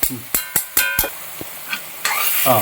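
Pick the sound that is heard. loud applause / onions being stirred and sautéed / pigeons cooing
onions being stirred and sautéed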